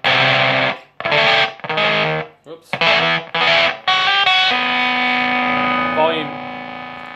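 Guitar through a boosted Deluxe 7 Min Fuzz pedal: a few loud, fuzzy strummed chord bursts, then one long ringing distorted chord that slowly decays. A brief spoken exclamation is heard partway through.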